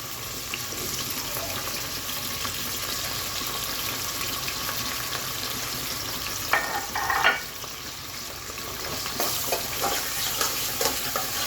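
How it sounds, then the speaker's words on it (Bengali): Onions frying in a pan for chicken chilli give a steady sizzle throughout, with a few louder clatters of stirring near the middle and more stirring scrapes toward the end, no voices. "একটু ভেজে নিব জাস্ট পেঁয়াজটা"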